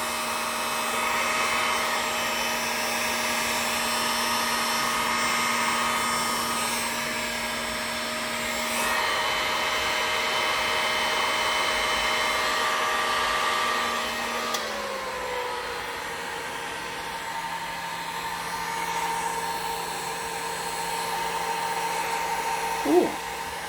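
Hair dryer blowing steadily on melted crayons for a crayon landscape, a loud sustained whine and whoosh that drops to a lower pitch about two thirds through as the setting changes.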